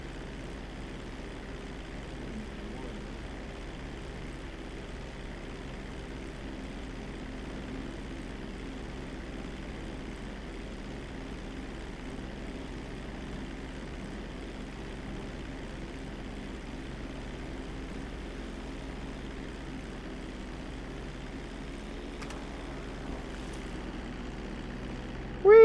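A plane engine in Grand Theft Auto drones steadily and evenly throughout, a continuous mid-level hum with no talking.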